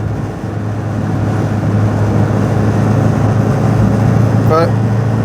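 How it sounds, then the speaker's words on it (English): A 1950s MG Magnette ZB saloon engine cruises at about 50 mph, a low, steady hum mixed with road and wind noise from inside the car, running continuously without a change in pitch. "keep her pegged at about 50 and she sounds very pleasant"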